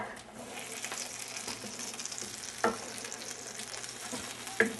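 A sauce of about a cup of liquid simmers and reduces in a pan, giving a steady soft sizzle and bubbling hiss with faint stirring scrapes and two brief clinks, with no talking.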